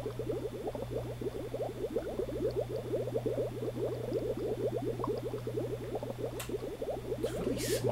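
Water in a fish tank in the game Seaman, a continuous bubbling gurgle with a steady low hum underneath, close and even throughout.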